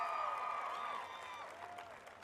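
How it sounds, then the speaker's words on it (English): An audience at a Detroit mentoring event applauds and cheers for mentors, a brief, steady wash of crowd clapping with a tonal ringing sound over it. "Let's give them another round of applause to our mentors."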